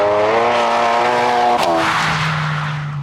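A Stage 3 tuned SEAT Leon Cupra with about 451 bhp accelerates hard in third gear as its front wheels spin, a loud, close engine roar rising in pitch with a brief screeching tire burst midway.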